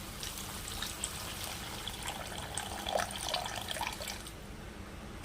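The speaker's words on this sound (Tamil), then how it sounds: "இப்போ இது கூடவே கொஞ்சமாக தண்ணி ஆட் பண்ணிக்கிறேன்" Water pours from a tap or vessel into a pan of brinjal thokku, a soft trickle and splash that holds steady for a few seconds at low level, with no voices.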